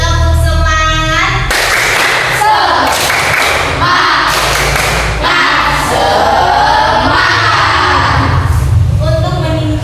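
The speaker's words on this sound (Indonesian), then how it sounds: "Satu kali lagi, tepuk semangat." Schoolchildren in a classroom perform the 'tepuk semangat' spirit clap again, loud rhythmic clapping bursts interleaved with a teacher's voice and the class chanting along.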